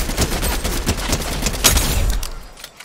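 Rapid video game gunfire in an elimination match, a dense run of close, loud shots that thin out and fade toward the end, with no talking.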